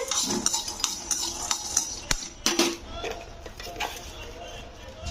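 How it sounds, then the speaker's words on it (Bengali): Whole coriander seeds and fried peanuts are stirred in a pan over a low flame, giving a run of scraping and clinking spoon strokes against the metal over a faint background sizzle. "ধনেটা দিয়ে জাস্ট একটু নাড়াচাড়া করে দিতে হবে"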